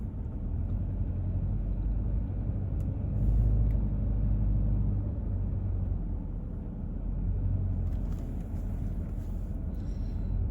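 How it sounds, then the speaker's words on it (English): A Mercedes saloon car creeping slowly around a derelict car park, a continuous low engine and road rumble holding steady throughout, with a few faint higher clicks and rattles over it. "I'm in a saloon Mercedes and it's barely going around this."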